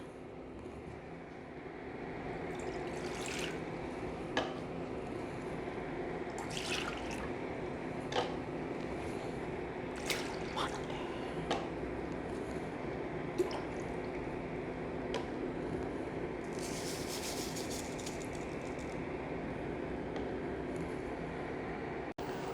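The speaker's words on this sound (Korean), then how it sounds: "그럼 이 재료들을 한번 끓여 보겠습니다" A pot of garlic pickle sauce made with raw sugar and anchovy fish sauce simmers on the stove, giving a continuous low bubbling hiss with scattered small pops and ticks, quiet and without speech.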